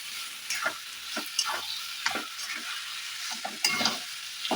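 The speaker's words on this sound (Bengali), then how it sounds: "অ্যাড করছি আমি একটু খাসির চর্বি এবারে সুন্দরভাবে এটাকে কষাবো" Spice paste fries in goat fat for a ghugni, giving a continuous close sizzle broken by repeated scraping stirs of the spoon, with no speech.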